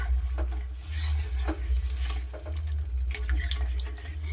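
Boiled mung dal is stirred into a fish-head masala in a pan, a wet bubbling sizzle with a low rumble beneath and repeated scraping strokes of a spoon, close up and without speech.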